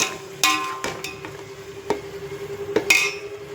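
Tomatoes sautéed in a pot for homemade beef biryani, with a spoon scraping and clanking against the pot in several sharp, separate knocks over a low background.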